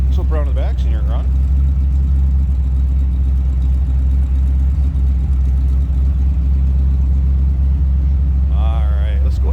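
The engine of a 1954 Chevrolet 3100 pickup street rod runs at a steady idle, a continuous close, loud, low rumble, with brief voices at the beginning and end.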